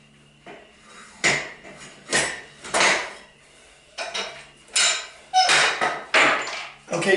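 A metal Titan adjustable monolift being mounted on a rack, with a series of loud clanks and metallic knocks in separate bursts, close by and getting busier toward the end.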